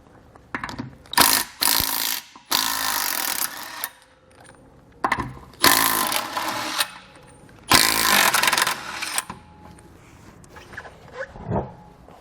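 Ratchet wrench loosening the spare tire mount on a 2013 Jeep Wrangler tailgate, heard as several loud bursts of rapid clicking separated by short pauses, with quieter handling noises toward the end.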